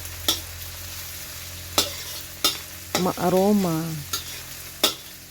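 Ginger fries in a pan with puffball mushrooms, a low sizzle broken by regular sharp spatula strikes against the pan; a voice speaks briefly midway.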